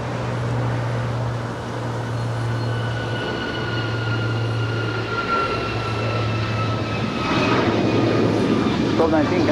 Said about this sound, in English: And that is United 1219 off to Kahului, 737 MAX 9.